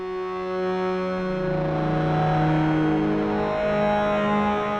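A sustained, drifting chord from a Korg Minilogue XD analog synth fed through a Red Panda Bitmap 2 with reverb, loud and distorted, its tones sliding slowly and washing out into a lingering tail.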